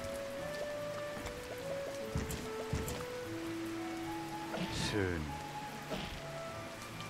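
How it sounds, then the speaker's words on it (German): Steady rain falls in Kitaria Fables, a farming video game, a soft even hiss that runs the whole stretch beneath someone speaking and light game music. "Und es regnet"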